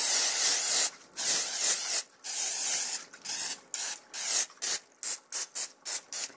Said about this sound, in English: I'm just going to go ahead and spray it with the olive oil spray that I have.